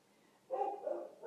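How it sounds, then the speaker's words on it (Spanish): Dogs barking somewhere outside, a short burst of a couple of muffled barks that starts partway through after near quiet, moderately loud and slightly distant. "ya empezaron a ladrar los perros"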